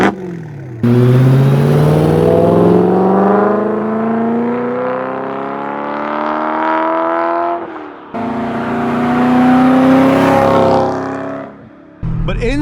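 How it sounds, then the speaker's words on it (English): A loud V8 exhaust on a BMW E92 M3 revs hard outdoors, climbing in pitch over several seconds, cutting off briefly, then roaring up again before dropping away. "Here's some clips of how this exhaust sounds from the outside."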